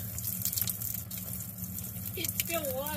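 Water pours in a steady stream from a bulldozer being drained, with a low rumble beneath the flow and a few whistling or squeaking tones near the end.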